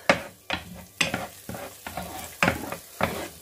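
Minced meat and chicken breast fry with onions in a pan while being stirred, giving close, regular scraping strokes about twice a second over a soft sizzle.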